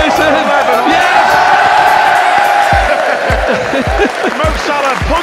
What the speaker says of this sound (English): This could be the biggest cheer of the day.